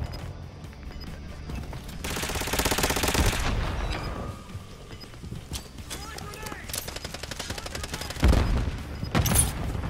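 Rapid bursts of gunfire and booms from the Call of Duty Black Ops 6 Zombies Liberty Falls map are heard under game noise, with louder shots near the end and voices talking throughout.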